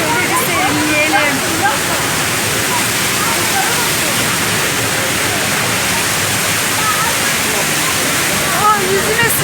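Gürpınar waterfall in Malatya, Turkey, pouring as a loud, constant broadband rush of falling water close by, with no talk.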